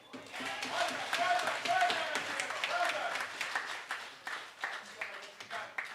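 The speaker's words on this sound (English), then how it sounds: "Let's give Auntie Emma another round of applause" Audience at a Saint Lucia Labour Party town hall meeting in Micoud North claps for a speaker, a sustained burst of applause with scattered voices and chatter mixed in, fading toward the end.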